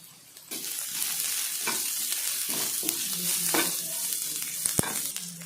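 Steady, loud sizzling of ingredients sautéing in oil while making sago puris, with occasional stirring scrapes and clinks throughout.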